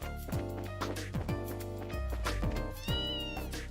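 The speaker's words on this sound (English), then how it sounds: "Meow." A cat meows repeatedly in the video game Trails in the Sky, several short mews over a steady background music bed at moderate loudness.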